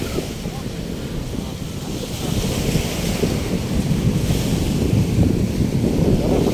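Broadband roar of surf on the dolomite sand beach at Manila Bay, steady and building slightly louder midway, with wind rumble over the microphone and no talking.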